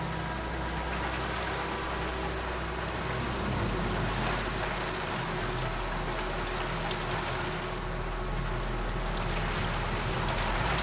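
Rain in Tashkent pours steadily on surfaces, a dense continuous hiss of drops that stays even and fairly close throughout, with no voices.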